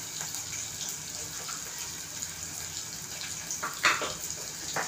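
Water sprinkled into a potato and pea curry in a cooker: a soft continuous watery hiss and spatter, fairly faint, with a brief louder splash near the end.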